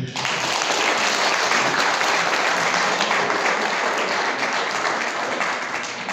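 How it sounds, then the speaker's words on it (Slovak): Dense, steady applause from an audience thanking the youngest children performers and their teacher at a Mother's Day event, loud and sustained throughout. "takže ešte veľký potlesk poprosím"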